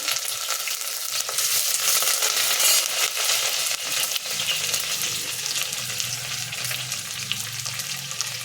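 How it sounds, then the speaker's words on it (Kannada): Curry leaves and chopped onion frying in hot oil give a loud, continuous crackling sizzle up close. It fades a little partway through as the pan settles into steady frying, and no one speaks. "ಈಗ ಕರಿಬೇವು ಈರುಳ್ಳಿ ಕಟ್ ಮಾಡ್ಕೊಂಡಿದ್ವಲ್ಲ ಅದನ್ನು ಸೇರಿಸ್ತೀನಿ"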